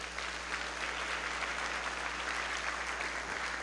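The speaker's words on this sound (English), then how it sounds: "Let's give them a big round of applause." Audience applause for helpers at a school district's annual address, a steady wash of clapping over a low constant hum.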